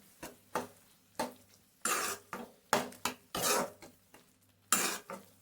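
A spoon stirs masala gravy in a pan with a series of close, quiet scrapes and knocks, some bursts longer and smeared, in an irregular rhythm over about five seconds.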